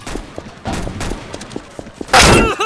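Gunfire in the Roblox game Arsenal, a run of rapid shots in uneven bursts ending in a loud sustained blast of fire, with no talking over it.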